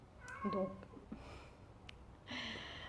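A cat meows plaintively a couple of times up close while crying to be let onto the terrace, drawn-out cries with short pauses between, and someone speaks briefly.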